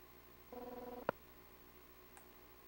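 Telephone ringing in the X-Files PS1 game: one brief warbling electronic ring, fairly quiet, ending in a sharp click, then near silence.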